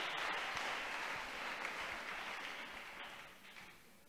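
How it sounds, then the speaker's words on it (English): A church congregation claps hands during a sermon, a soft, distant and steady patter of many hands that slowly tapers off, with no speech over it. "Clap those hands unto the Lord."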